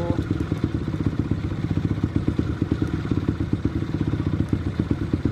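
A motorcycle engine fitted with a UMA Racing CDI runs at high revs, a rapid, even, pulsing exhaust rattle with regular thumps, steady and fairly close throughout.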